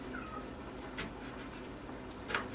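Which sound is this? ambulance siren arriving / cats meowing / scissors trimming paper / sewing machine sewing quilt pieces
cats meowing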